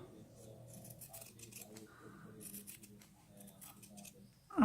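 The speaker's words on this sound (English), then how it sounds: "Cut it with the wavy scissors there." Wavy-edged craft scissors snipping fabric for a Tilda doll, a series of soft close crisp cuts over a quiet room background, ending in a louder knock.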